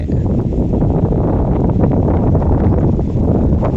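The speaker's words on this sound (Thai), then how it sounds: "เสียงลมอาจจะดังนิดนึงนะครับ วันนี้ลมแรงมากเลยนะครับ" Strong outdoor wind buffets the microphone in a loud, continuous rumbling roar with no pauses and no talk over it.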